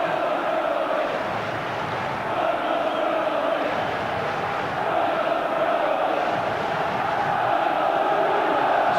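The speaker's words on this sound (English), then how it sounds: "Listen to the crowd getting really worked up now." A packed stadium crowd roars steadily at a tense Tottenham v Nottingham Forest League Cup semi-final second leg, a dense, continuous swell of noise that builds slightly toward the end with no clear individual voices.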